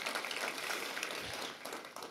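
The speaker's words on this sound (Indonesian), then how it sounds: "kasih tepuk tangan paling meriah buat Tuhan" Applause from a congregation during a church gathering, a fairly quiet, steady wash of clapping that continues evenly, with a slight dip near the end and no speech on top.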